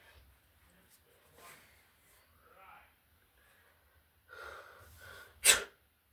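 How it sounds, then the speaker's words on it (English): One sharp, loud sneeze bursts out near the end after several seconds of quiet, faint breathing and small sounds from a person who has just drunk a so-called sneezing potion. "I might start to sneeze."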